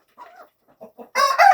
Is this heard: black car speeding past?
no